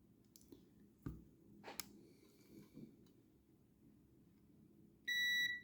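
Continuity-test beep from a multimeter probing the ground on an Xbox 360 controller board: one steady electronic tone that sounds alone near the end, after a few faint clicks and handling noises.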